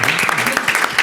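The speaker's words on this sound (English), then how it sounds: "it's huge round of applause because that was so inspiring" Audience applause at a panel event on female entrepreneurs in Africa, a brief dense burst of clapping from many hands, loud and close, lasting about a second.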